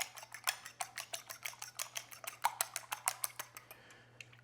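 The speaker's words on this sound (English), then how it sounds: "I'm just gonna whisk these eggs together before we put them in the big bowl here." Eggs being whisked in a bowl for a Kentucky pecan pie, a fast regular series of sharp metallic clicks and taps against the bowl, close and clear, slowing near the end over a low steady hum.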